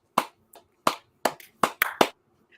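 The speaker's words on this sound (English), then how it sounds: "let's give a round of applause for Daivien Williamson." Several people clap in a podcast studio for a departing guest, a sparse handful of sharp claps: about six or seven crisp hits spread unevenly over a couple of seconds, close and fairly quiet, no voices.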